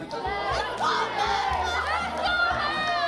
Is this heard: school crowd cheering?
yes